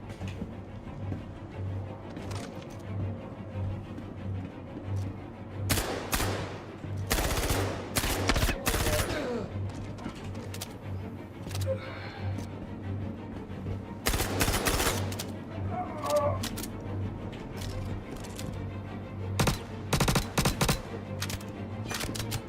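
Rapid gunfire bursts in the Star Citizen video game, sharp cracks and automatic volleys coming in clusters over a steady low game background.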